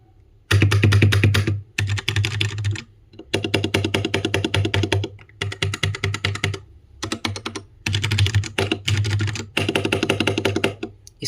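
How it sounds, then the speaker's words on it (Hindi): Someone types on a Portronics Hydra 10 keyboard in quick, dense bursts of crisp clacky keystrokes, separated by brief pauses, loud and close with no talking. "तो अब कर लेते हैं इस कीबोर्ड का साउंड टेस्ट।"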